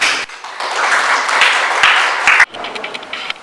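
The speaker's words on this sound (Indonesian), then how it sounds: "tepuk tangan untuk semua." A group in a classroom claps together, a dense burst of applause lasting a couple of seconds before breaking into a few scattered, fading claps.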